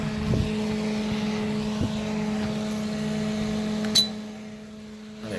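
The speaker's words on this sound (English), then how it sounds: "So I'll plug it in. That gets the fan spinning." A small electric fan runs steadily beside a microwave-oven transformer being built into an electromagnet, giving a constant motor hum with tonal bands, a couple of soft knocks near the start and middle, and a brief sharp click toward the end.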